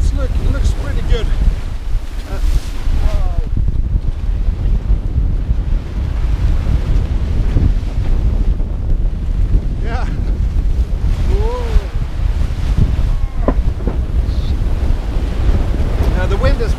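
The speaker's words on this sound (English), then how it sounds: "Yeah, the wind is on the bow now." Strong wind and ocean waves buffet a boat crossing the North Sea in winter, a constant loud roar of gusts and rushing water with microphone wind noise throughout and occasional faint tonal creaks.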